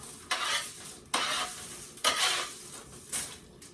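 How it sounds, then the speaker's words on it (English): Crispy baked kale crackles and rustles as it is handled, four short, dry crunching bursts spaced about a second apart, close and fairly soft. "they've got that crispy sound to them"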